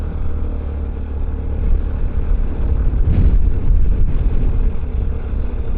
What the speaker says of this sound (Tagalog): Ibig sabihin malakas yung hangin dito.